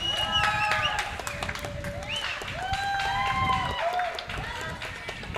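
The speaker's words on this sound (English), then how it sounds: "you better give a big cheer for number 3, because number 3 is your winner" Crowd in the grandstand at a county fair harness race cheers and applauds the winning horse, a steady wash of clapping and voices with an announcer talking over it throughout.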